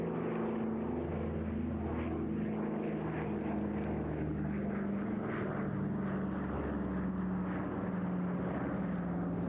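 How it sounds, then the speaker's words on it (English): Spitfire fighters and a Dakota flying past at the Eastbourne airshow, droning piston propeller engines with wavering pitch, moderately distant and sustained throughout, alone without talk. "the Dakota will take over the skies as the Spitfires pass alongside"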